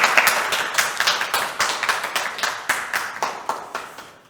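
An audience at a spring academic conference claps together in steady, evenly spaced applause, sharp overlapping hand claps repeating at a quick rhythm for several seconds with no talking.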